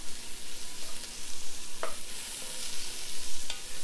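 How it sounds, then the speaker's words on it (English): Spicy and regular peppers with translucent onions frying in a pan for a Georgian chicken stew are stirred around, a steady hiss of sizzling oil broken by a few soft utensil scrapes and knocks. "now I'm going to add my peppers, spicy peppers and regular peppers, and just stir that around"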